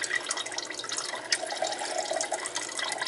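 Meat drippings pour from a meatloaf pan into a measuring cup, a close, steady trickle and splash of liquid that runs on without a break.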